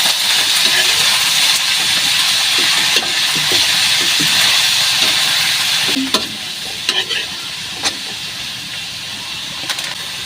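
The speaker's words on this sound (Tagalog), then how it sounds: "Igisa po natin ang gulay." Vegetables sauté loudly in a hot pan while cooking pancit miki, a steady dense sizzle and hiss with brief stirring scrapes and clatters, close and without talk.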